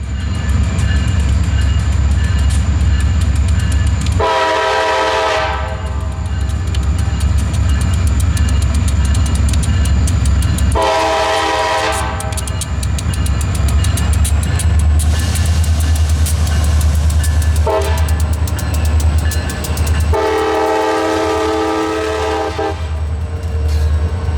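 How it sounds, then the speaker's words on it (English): An SD40-3 diesel locomotive on the Aberdeen Carolina and Western rumbles loudly as it pulls a train, sounding its horn in several long blasts over the heavy engine drone. "the train was soon underway for Star, with SD40-3 number 6907 doing the honors"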